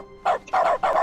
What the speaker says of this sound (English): The click button now makes a barking sound.